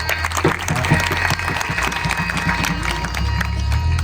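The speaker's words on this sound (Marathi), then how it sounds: "टाळी वाजवा." An audience claps along at a Marathi kirtan on Ram Navami, a dense, steady wash of hand claps mixed with crowd noise and a low musical drone, continuous through the moment.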